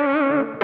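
Electric guitar through heavy distortion with the tone rolled down, giving a choked, wah-like nasal sustained note that dips briefly before a brighter chord rings back in, loud and alone.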